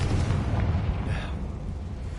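A Confringo explosion spell goes off in Hogwarts Legacy, a loud, full-bodied blast that rumbles and decays into a noisy roar over about two seconds, with no talking.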